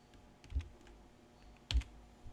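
Quiet computer keyboard typing with a few soft key taps, then a firmer, louder press of the enter key near the end, close up in a calm room.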